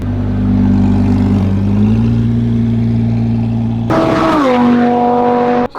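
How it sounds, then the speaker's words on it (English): An Audi R8 sports car is pushed hard on a track, a loud steady engine drone that holds close, then shifts abruptly to a higher, rising rev before cutting off at the end. "Liam thought he had a bit more in the R8 that he wanted to push out"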